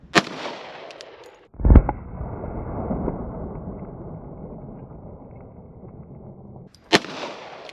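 A Glock 21 pistol fires .45 ACP rounds at a range: three sharp, loud reports, widely spaced, each with a long rumbling echo trailing off. No voices.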